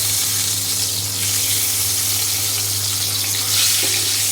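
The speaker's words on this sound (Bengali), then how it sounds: "এখন আমি ডিমগুলো ভেজে নেব।" Duck eggs fry in hot oil seasoned with turmeric in a kadai, a loud, close, unbroken sizzle and hiss with a steady low hum beneath and no talking.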